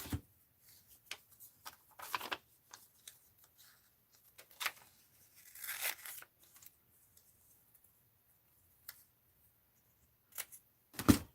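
Scissors snip paper into strips for an art journal: sparse, crisp cuts and rustles come in short irregular bursts separated by quiet gaps, close and fairly soft, with no talking.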